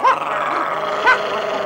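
Dogs in a town street in the animated Paddington series growl steadily up close, broken by two short, sharp barks, one at the start and one about a second later.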